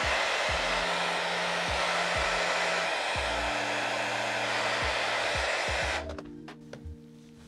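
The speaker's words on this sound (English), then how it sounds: "I'm gonna hit it with a hairdryer just to dry out the fins" A hair dryer blows steadily and loudly close by, drying the fins of a fish for a fish print, a continuous broadband whoosh that cuts off near the end, leaving brief clicks and handling noise.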